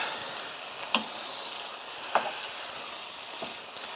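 Food sizzles steadily in a hot pan during stirring, a soft continuous frying hiss broken by a few faint clicks of a utensil against the pan, with no talking.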